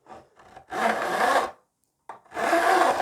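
Guitar fret ends being filed and bevelled: two long, steady rasping strokes of a file across metal and wood, close up, with a few lighter scrapes at the start and a short silent gap between strokes.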